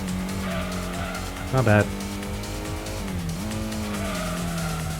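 Race car engine droning with tire squeal and skidding in Gran Turismo on PS1, a steady loud motor tone shifting pitch with a brief screech, while someone talks over it.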